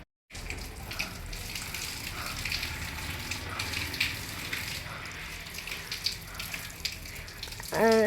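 Water pours and splashes steadily onto garden plants in a continuous rushing stream, with a brief clatter at the very end.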